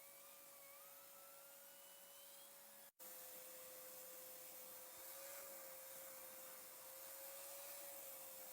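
A vacuum cleaner with a hose attachment runs over a tufted rug, a steady loud whirring roar with a high whine and one brief dropout where the suction cuts, then resumes.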